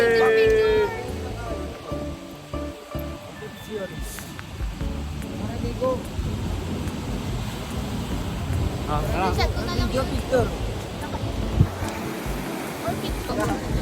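Ocean surf washing on a beach, a steady roar of breaking water with wind, while people talk and call out nearby.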